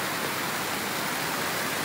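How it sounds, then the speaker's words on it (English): Loud waterfall in a forest near Kristiansand, Norway, a steady, dense roar of rushing water filling the whole clip with no break. "Because the waterfall sounds so loud."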